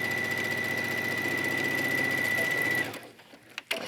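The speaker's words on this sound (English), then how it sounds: "even if you stitch this with the sewing machine" A sewing machine with a stretch needle stitches fabric for a yoga top back wrap, running steadily and loud for about three seconds with a constant whine and rapid stitching rhythm, then stopping abruptly, leaving a few faint clicks and handling sounds.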